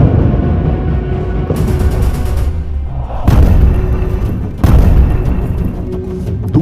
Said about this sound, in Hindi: एक तरफ गाजा पर बमबारी हो रही है